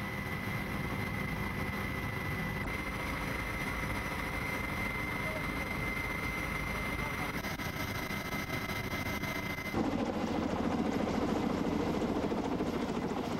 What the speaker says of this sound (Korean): 헬기가 밧줄을 들이올 자리를 찾으면 훈련 준비는 완료된다.